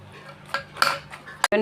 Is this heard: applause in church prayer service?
no